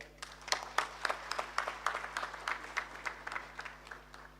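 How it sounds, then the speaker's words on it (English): Audience applause for Honorable Rebecca Miano at the 14th African Union High Level Private Sector Forum, a soft, steady patter of clapping with scattered sharper claps, moderately faint and held throughout. "I think we should give Honorable Rebecca Miano another round of applause, please."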